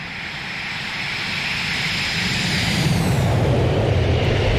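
Airbus A321 jet engines roar in a steady, loud flyby within a flight simulator, the broadband rumble swelling slightly as the airliner passes close, with no talking over it.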